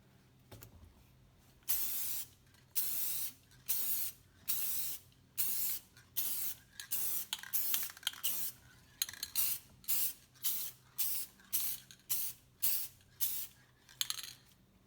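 Spray can finish hisses onto a guitar headstock in a repeated series of short bursts, each a second or so long, separated by brief pauses, close and fairly quiet.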